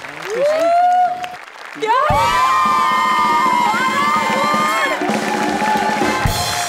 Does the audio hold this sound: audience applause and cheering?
yes